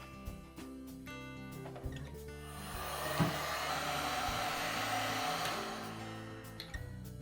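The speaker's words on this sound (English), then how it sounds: "we'll take a heat gun or a blow dryer and we'll shrink that tubing" A heat gun blows with a steady airy roar that swells in the middle and fades, shrinking tubing over butt splice connectors during a refrigerator repair, amid faint clicks and handling noises.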